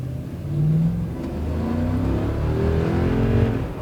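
A 2010 Toyota Tundra 4.6 V8 truck engine revs up toward 6,000 RPM and holds a rising, throaty growl, loud and close, with no talking.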